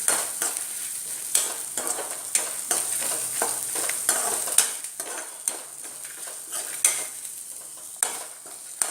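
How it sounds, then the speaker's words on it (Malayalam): Onions and spices are sautéed in hot oil for a mutton curry: a continuous close sizzle with repeated scraping and stirring strokes of a utensil against the pan. No voices are heard. "എണ്ണ ഒഴിച്ചിട്ടാണ് വഴറ്റിയെടുക്കുന്നത്."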